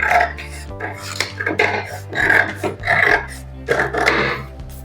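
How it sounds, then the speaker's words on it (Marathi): Scissors cutting through two layers of blouse fabric held together, giving repeated close snipping and rasping strokes in irregular bursts over a steady low hum. "आपण हे सगळे पदर दोन्ही पदर पकडून आणि हे कापून घ्यायचंय"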